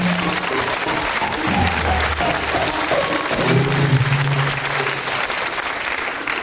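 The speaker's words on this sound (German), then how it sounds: "die Damen und Herren hier im Studio haben jetzt geklatscht" A studio audience bursts into sustained applause, a dense wash of clapping that holds steady throughout, with a voice speaking briefly underneath.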